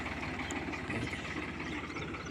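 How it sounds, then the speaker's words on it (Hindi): A village tractor heading along a country road to the fields, its engine running in a steady, close, continuous chugging drone with no pauses. "ये भी ट्रैक्टर हमारे गांव का ही है, खेत में जा रहे हैं"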